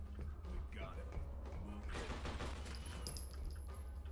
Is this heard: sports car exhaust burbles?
no